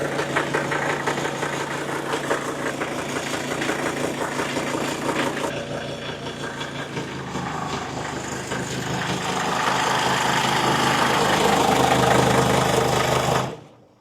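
A car engine with a vacuum leak idles with a rough, rhythmic chug, then rises into a louder, sustained rev before cutting off abruptly at the end.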